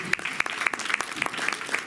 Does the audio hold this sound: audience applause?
yes